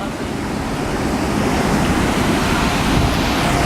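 Waterfall beside a walking path at Hersheypark, a steady broadband rush of falling water that holds loud and even throughout, with no clear voices over it.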